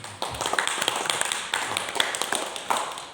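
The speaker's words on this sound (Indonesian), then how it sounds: "Aplaus dulu untuk Mas Badosi." Seminar audience applauding a presenter at a city orientation event, steady indoor clapping from many hands throughout, moderately loud and close, with a few sharper individual claps standing out.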